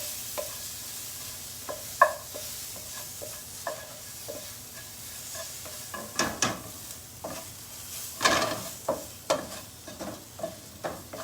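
Thawed frozen yellow corn stirred in hot oil with onion and spices, a steady soft sizzle broken by repeated spoon scrapes and taps against the pan, close and moderately loud with no voices.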